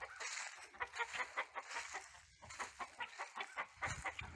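Backyard homestead chickens clucking and murmuring continuously, several birds close by with overlapping rhythmic calls and short bursts, no talking.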